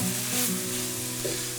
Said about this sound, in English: saute the onions until they soften. Add the mushrooms and continue cooking until the onions and mushrooms are browning